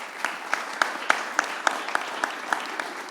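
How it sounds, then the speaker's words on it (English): Audience applause at an online award ceremony honoring colleges and universities, a steady wash of many hands with a regular pulse of sharper claps running through it, sustained for a few seconds without talk. "hold your applause"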